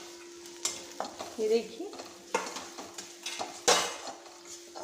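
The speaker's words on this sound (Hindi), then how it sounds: "अब इन सभी को अच्छे से हम थोड़ा सा भून लेते हैं" Turmeric and coriander powder roast in a pan for chana dal kadhi, with a spoon scraping and clinking in irregular strokes over a faint sizzle; a voice speaks briefly.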